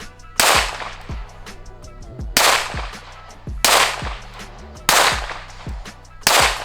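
Five sharp pistol shots ring out one at a time at a slow, even pace on a shooting range, each a loud, close crack followed by a brief echoing decay.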